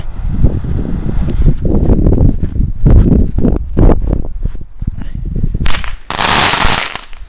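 Fireworks shells fired from a Cassiopeia launcher: a dense run of loud, sharp cracks and pops close by, then a broad hissing burst near the end.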